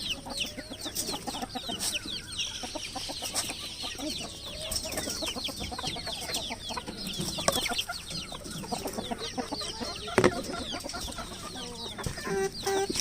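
Hens cluck and chatter in a backyard flock on a home poultry run, with overlapping bird calls and soft squawks continuing throughout, fairly close and steady.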